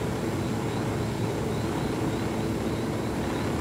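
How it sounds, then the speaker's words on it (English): A steady engine and rotor drone from an enemy helicopter in the video game Ghost Recon Wildlands, sustained and fairly even in loudness, with no voices present. "Enemy helicopter on the left."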